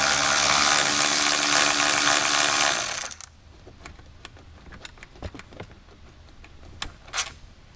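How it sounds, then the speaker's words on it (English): A power tool whirs loudly for about three seconds while removing a side bolt from the roll bar of a 2021-or-later Ford Bronco, then cuts off, leaving scattered light metallic clicks and taps nearby. "So let's go ahead and get this side bolt out here now."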